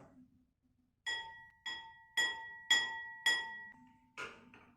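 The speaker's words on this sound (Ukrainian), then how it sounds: "Послухайте, як співає тарілочка." A plate is struck six times at a steady pace, each hit ringing brightly and fading, close and clear in a quiet room.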